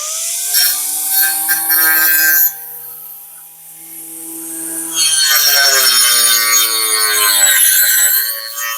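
Cordless weed wacker with a cutting attachment pruning branches, a loud high-pitched motor whine that revs up, drops briefly, then climbs back to full speed, close by.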